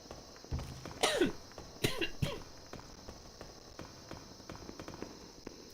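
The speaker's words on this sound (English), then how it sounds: "I'm coughing a lot" A person coughs a few times in quick bursts, fairly close, then quieter shuffling noises follow.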